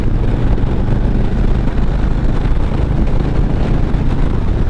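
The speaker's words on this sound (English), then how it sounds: "Bike's running great." Steady, loud engine rumble of a 2021 Harley-Davidson Street Bob motorcycle under way on an Arizona road, with constant wind buffeting the microphone and no pauses throughout.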